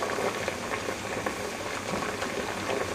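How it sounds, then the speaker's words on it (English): Sweet potatoes boil in a pot on high heat, giving a steady, dense rush of bubbling and simmering that stays even throughout, with no voices. "You want to just boil for 15 to 20 minutes on high."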